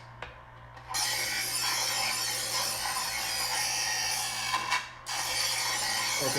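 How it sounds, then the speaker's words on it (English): An electric knife sharpener grinds along the edge of an inexpensive kitchen knife. The gritty, close rasping runs steadily for several seconds and breaks off briefly near the end before starting again. "I just sharpen with an electric knife sharpener"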